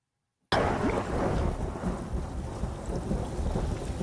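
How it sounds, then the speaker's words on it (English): A thunderstorm in a film scene erupts suddenly after a brief silence, with a loud crack of thunder rolling into a sustained rumble over steady rain. "It's just a bit lightning."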